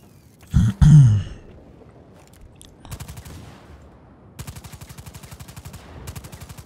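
AK rifle in the video game Just Cause 4: a couple of loud close shots, then rapid automatic bursts of fire, with quieter stretches between.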